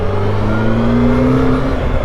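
A Yamaha FZ8 motorcycle engine pulling in first gear, a loud, steady, close drone whose pitch climbs slightly as it accelerates, with no talk over it.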